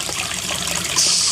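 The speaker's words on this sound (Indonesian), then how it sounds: "yaitu air terjun bisa mengalir dengan deras" Water rushing down a small aquarium waterfall driven by a pump, a close, steady hiss of flowing and splashing water that grows slightly brighter near the end.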